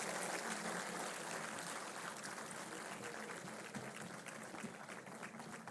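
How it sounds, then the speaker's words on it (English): A faint, steady wash of crowd applause welcomes the Union Health Minister at a formal government event. The dense clapping sounds distant and continues evenly throughout without any voices. "Can I have a big round of applause?"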